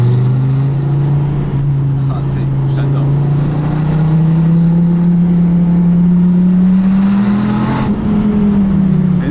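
A Dodge Viper ACR GTS-R engine roars loudly and close, a deep, steady drone whose pitch climbs slowly as the revs build, with faint voices beneath it.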